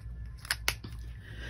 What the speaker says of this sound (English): This is a pair of scissors, see?